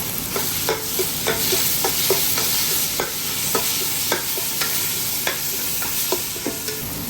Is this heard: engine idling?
no